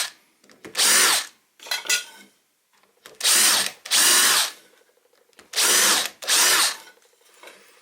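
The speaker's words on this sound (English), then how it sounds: "I'm going to countersink for where the screws go through the handle." A power drill countersinks screw holes in a scrap-wood toolbox handle, firing in six loud close whirring bursts, mostly grouped in pairs with short pauses between.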